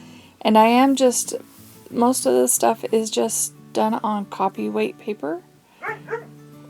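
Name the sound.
dog barking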